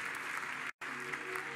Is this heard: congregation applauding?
yes